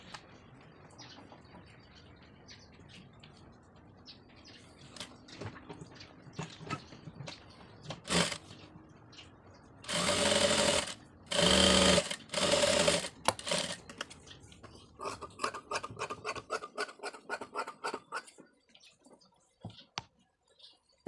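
A sewing machine stitches a cut sleeve onto a garment, giving quiet clicks and scattered ticks followed by short bursts of loud, rapid stitching and then more light irregular clicking, with no talking.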